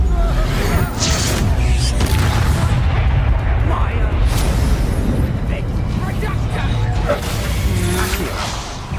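Hogwarts Legacy spell effects from Incendio and Expelliarmus casting, a dense loud barrage of booming blasts, whooshes and pops layered with combat noise, continuous across the whole stretch with spoken spell shouts mixed in.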